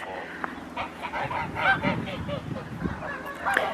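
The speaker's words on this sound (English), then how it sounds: "speaking to all the geese." Geese honking at a farm, a dense overlapping chorus of calls from several birds at close range, steady and busy throughout with no talk.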